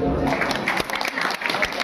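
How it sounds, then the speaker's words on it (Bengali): An audience at a magician's magic show claps in a dense burst of applause that lasts the whole short moment, with a few voices mixed in. "ভালো লাগলে একটু জোরে হাততালি।"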